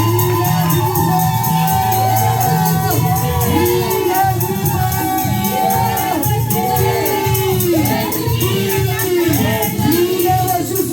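A church congregation cheering and shouting loudly during worship, with a continuous dense crowd roar, rising voices and whoops alongside music.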